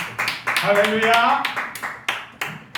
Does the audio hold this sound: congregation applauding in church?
yes